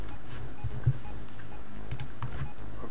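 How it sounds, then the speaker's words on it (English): Keystrokes on a computer keyboard while an HTML file is typed, faint, sparse clicks scattered over a quiet room-tone background with no talking. "We're just going to type the HTML file."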